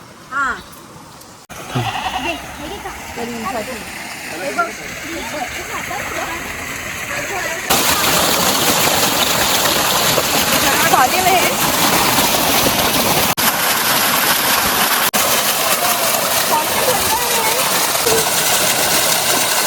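Fresh borewell water gushes at a farm, a loud, steady rushing splash that starts abruptly and keeps going, with goats bleating and people talking over it.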